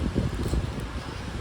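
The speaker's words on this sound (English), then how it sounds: "maybe this is less windy here" Gusty outdoor wind buffets the microphone in low, uneven rumbling bursts that stay steady and fairly loud throughout.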